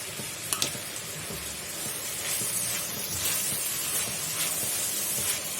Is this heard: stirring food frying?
yes